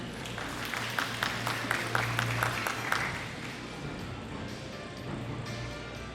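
Audience at a Korean sustainable seafood forum clapping to welcome a guest, a moderate wash of applause that thins out toward the end.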